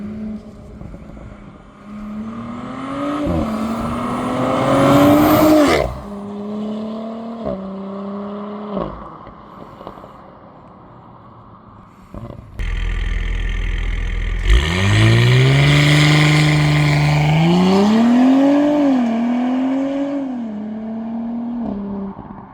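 Audi S5 fitted with new exhaust and springs making flybys at a car meet: loud revving engine notes rise and fall, a brief quiet gap, then a hard acceleration pull with climbing pitch, no talk.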